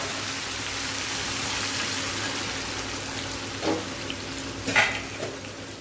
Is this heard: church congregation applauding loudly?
no